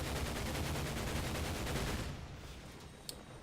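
Mounted machine gun in the Pacific war shooter Medal of Honor: Pacific Assault, firing dense continuous bursts that fill the first two seconds, then fading into a quieter tail with a single sharp report near the end.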